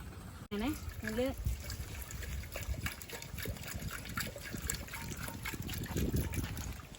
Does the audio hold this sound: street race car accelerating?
no